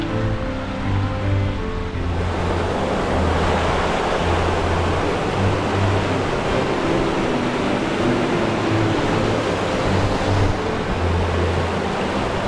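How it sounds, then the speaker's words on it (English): Heavy rain pours steadily outdoors with wind in a mountain forest setting in fall, a dense, constant broadband roar throughout with a low hum beneath and no speech. "Started raining harder."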